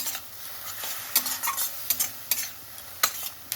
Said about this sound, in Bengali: মশলাটা দিয়ে ভেজে নিচ্ছি